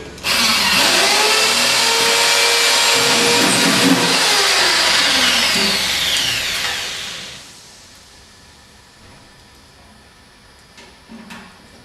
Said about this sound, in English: Drill through.